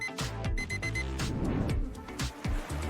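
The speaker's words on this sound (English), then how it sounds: "correct answer is an alarm clock" An alarm clock rings alone in a steady, continuous burst of rapid repeated tones, loud and close throughout.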